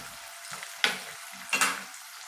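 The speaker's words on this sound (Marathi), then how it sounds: "कांदा फक्त अगदी थोडं मऊसरच करून घ्यायचं आहे" Onion softening in a pan with garlic for homemade cabbage manchurian, a soft steady sizzle broken by two sharper bursts of scraping and stirring, close and alone.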